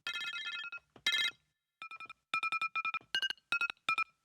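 An iPhone alarm ringtone sounded as a single note pitched near F, played in rapid repeated bursts of bright, chiming tones with short pauses between groups.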